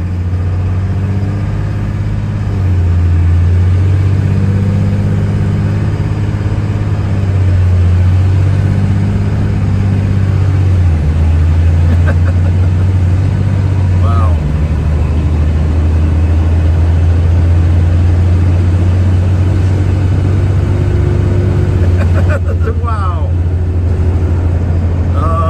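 An FMTV military truck pulls out onto the road, its heavy diesel engine droning loud and steady with rising and falling gear changes throughout, with a voice talking over it.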